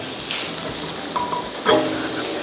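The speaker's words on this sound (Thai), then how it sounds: "ผมเร่งไฟเลย แล้วผมลงเฟนเนล ครับผมผัดอย่างเร็วครับ" Steady hissing sizzle of fennel stir-frying over high heat in a hot pan, with occasional scraping and stirring clatter.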